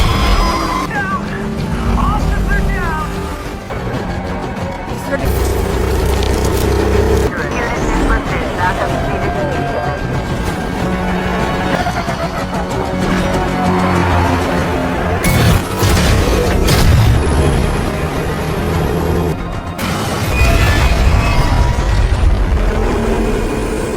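Police car chasing a truck in a film: a dense, loud mix of roaring engines, crashes and impacts, with shouting voices and music woven through the whole scene.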